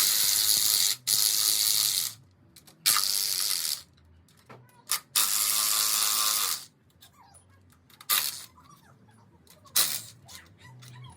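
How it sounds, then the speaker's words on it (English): Bolts are removed from the inner primary cover of a Harley-Davidson Low Rider S Milwaukee 8 Softail with a power ratchet or tool, heard as loud bursts of whirring separated by pauses and small metallic clicks. "All I gotta do is remove the 5 bolts that's holding the inner primary cover"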